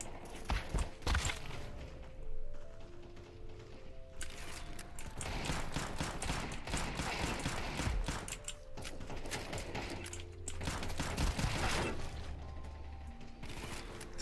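Shots from a Five-SeveN pistol in Counter-Strike 2, with sharp impulsive bursts at a few moments standing out over a steady bed of game ambience and clicking mechanical noises.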